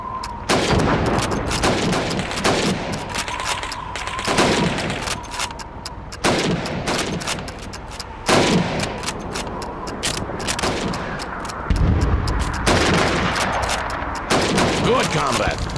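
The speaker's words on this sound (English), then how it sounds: "You have 15 seconds to shoot the helmets." Rapid rifle shots ring out at helmet targets on a Red Army training range in Call of Duty 2, loud cracks fired repeatedly in quick succession with mechanical rattles between them and a steady tone in the background.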